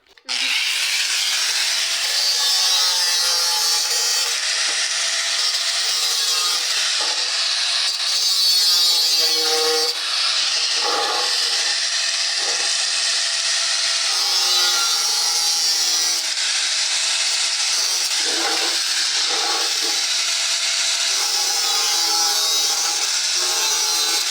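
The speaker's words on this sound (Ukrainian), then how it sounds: "щоб вирівняти нормально кришку, робимо 4 Надрізи" A saw rasps steadily through a barrel lid in long continuous strokes, loud and close, with brief pauses between cuts and no talking.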